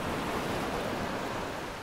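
Ocean waves wash along a shore in Skyrim, a brief, even, broad rushing surf noise without distinct breaks.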